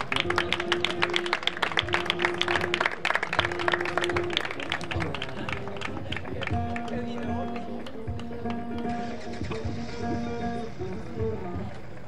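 Crowd applause at a doma vaquera horse-riding competition, dense clapping in the opening seconds that thins out under a sustained musical tone and background murmur.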